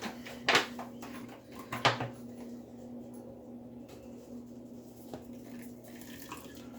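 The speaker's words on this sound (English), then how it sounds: "I'm going to add just a bit of the distilled water" Two short splashes of distilled water being poured into aloe vera gel, close by, followed by quiet trickling over a low, steady hum.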